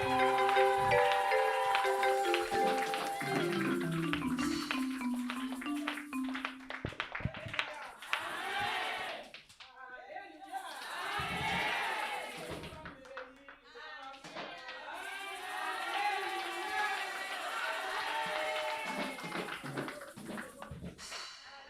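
A church congregation applauds and acclaims, with sustained rhythmic clapping mixed with voices and singing. The sound swells and dips in waves, with brief quieter gaps between bursts of clapping and cheering.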